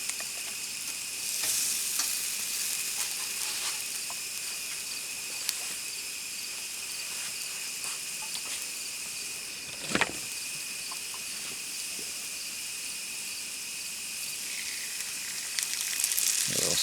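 Fish sizzles over a campfire in a forest, a steady crackling fry with occasional pops, while crickets chirp throughout in the background.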